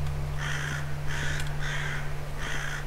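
Crow-like caws from a bird in the horror game Edge of Dawn, four harsh calls in a steady rhythm over a low constant hum, fairly close and clear with no talking.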